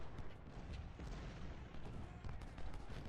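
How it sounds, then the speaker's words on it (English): 24-pound howitzers fire in a Civil War video game. Dense, rumbling bursts of artillery and gunfire roll continuously through a distant battle din, with no clear single shot standing out. "Look at this, 24-pound howitzers."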